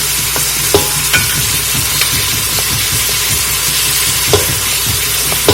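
Scallion stalks and thyme sprigs sauté in a hot pan, a steady close sizzle with frequent stirring scrapes and occasional sharp clicks of the utensil against the pan throughout.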